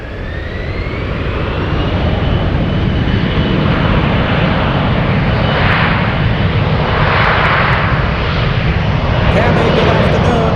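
An airliner rolls down the runway for takeoff at San Francisco International Airport, a loud sustained jet engine roar with a rising whine that builds and holds throughout, with people talking faintly beneath it.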